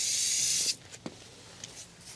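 A water spray hisses steadily at close range for about three quarters of a second while rinsing a part clean, then cuts off, leaving a few faint knocks and handling sounds.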